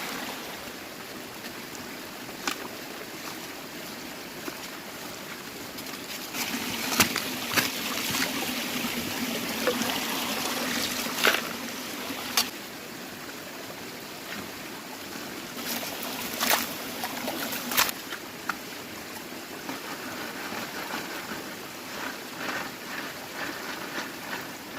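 A small forest waterfall feeds a flowing stream, giving a steady, broad rushing wash with occasional brighter splashes and trickles, continuous and moderately close with no voices.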